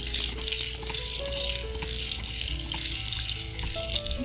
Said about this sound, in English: the rattles also make some sound